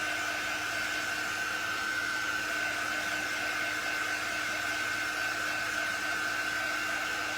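A hair dryer blows steadily on a strawberry-themed craft transfer, giving a constant, fairly close whooshing hum with a high whine that runs unbroken for the whole stretch, with no talk.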